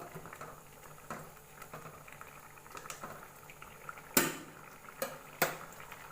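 Assamese mutton curry simmering in a pot, a soft continuous bubbling with occasional sharper pops and clicks, close and fairly quiet.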